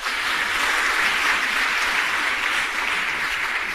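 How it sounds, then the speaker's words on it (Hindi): An audience at a Jain history lecture claps in a dense, sustained burst of applause, loud and continuous for several seconds with no voices over it. "अगर आपको गौरव लगे तो ताली बजाना"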